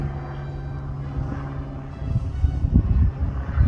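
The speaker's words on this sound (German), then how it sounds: "Ein Flugzeug." Low rumbling drone of an airplane passing overhead, growing louder and rougher toward the end.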